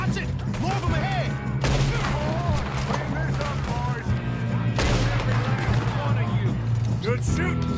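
Rapid gunfire in the western video game Red Dead Redemption 2, with repeated loud shots and volleys packed densely over game music and voices talking throughout.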